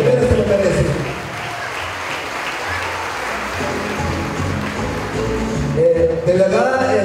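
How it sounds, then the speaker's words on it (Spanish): Sustained crowd applause at a municipal Mother's Day celebration, a steady bed of many people clapping together, with a voice talking over it and a louder swell near the end. "un aplauso para todos ustedes, mamaditas lindas, que ustedes se lo merecen"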